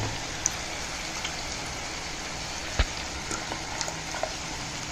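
A pot of pepper curry bubbles at a gentle boil, a soft continuous fizzing and popping with a few sharper pops, fairly quiet and close.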